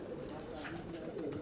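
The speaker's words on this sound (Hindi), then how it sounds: "टैडी कबूतर है नईम साहब का," A male Teddy pigeon coos in low, soft murmurs, close by under steady background noise, with a voice speaking over parts of it.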